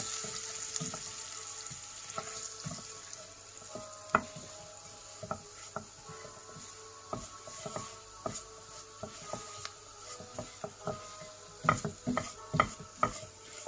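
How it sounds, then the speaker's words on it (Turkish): Flour roasts in a pan for a kidney bean (barbunya) dish, giving a soft, continuous sizzle. Frequent light spoon taps and scrapes against the pan sound close and fairly quiet, with no voices. "Unun kokusu çıkana kadar birazcık kavuracağız arkadaşlar."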